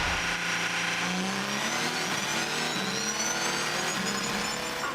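Race cars at Silverstone during the 2015 FIA WEC 6 Hours, a loud continuous engine roar with rising and falling revs as cars pass, steady and close throughout.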